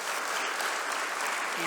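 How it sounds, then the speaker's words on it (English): Applause at a medical school white coat ceremony, a dense, steady wash of clapping from a large crowd with a voice faintly underneath. "Big round of applause that we've made it to today."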